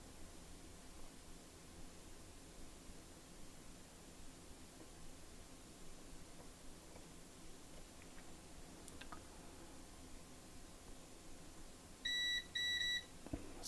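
A few short electronic beeps, two close together near the end, from an HP Pavilion Gaming laptop under repair with a grounding fault, sounding over a steady low background hiss in a quiet workshop.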